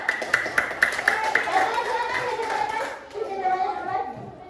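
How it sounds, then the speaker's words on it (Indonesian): Children in a primary school classroom clap together in a brief burst of sharp, rhythmic hand claps that fades within a couple of seconds, followed by overlapping kids' voices and chatter. "Tepuk tangan dulu ya, Pak."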